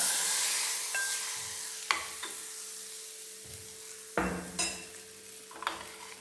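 Chana dal frying in a pan as a tempering for ragi porridge, a faint sizzle with several sharp clinks and scrapes of a spoon stirring against the pan.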